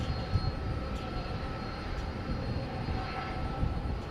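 A UPS heavy cargo jet takes off from runway 18L at DFW Airport at night, a broad, steady engine roar heard from a distance with no voices.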